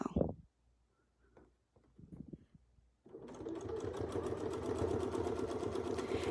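A sewing machine stitches quilt layers along a template-guided quilting shape, starting abruptly after a quiet pause with a few soft handling sounds and then running as a steady, fast, close mechanical whirr to the end.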